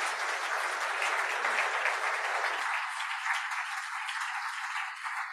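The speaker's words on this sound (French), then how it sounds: "Le Père, reçois ces applaudissements." A church congregation applauds after a personal testimony at an anniversary gathering, a steady wash of many hands clapping at moderate distance that thins slightly toward the end.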